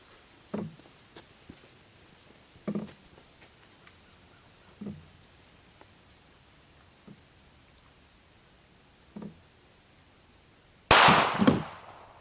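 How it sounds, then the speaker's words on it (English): Shots from a Browning Challenger II .22 pistol, fired at a swinging fishing line outdoors: four sharp, spaced cracks at moderate distance, followed by a louder, longer burst of noise at the end. "I'm going to be shooting it with my Browning Challenger 2 22 pistol as it swings"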